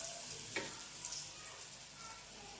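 Chillies fry in a kadhai over a low flame, giving a faint, steady sizzle with soft crackles and no voices.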